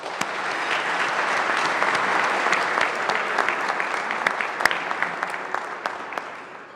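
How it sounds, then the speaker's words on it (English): A large audience applauding steadily, dense clapping that holds for several seconds and thins slightly toward the end, with a few sharper individual claps standing out. "Please join me in a warm round of applause for all of them."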